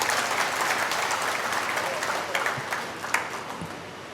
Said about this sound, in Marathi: त्यांच्यासाठी एकदा जोरात टाळ्या वाजवा.